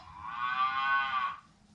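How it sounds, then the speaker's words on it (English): A single drawn-out cattle moo from a Soundtraxx Tsunami2 model train sound car, clear and sustained for over a second before tapering off, heard alone over a faint low background hum. "Okay, now you got the cow sound as well."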